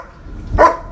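A single dog bark, close and loud, rising sharply out of quiet outdoor background near a home with chickens and a rooster.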